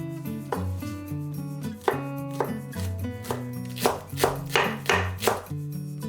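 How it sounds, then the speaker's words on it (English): A knife chops spring onion on a cutting board in a run of close, crisp thuds, roughly a dozen cuts at an uneven rhythm over soft background music. "Finally, cut the spring onion"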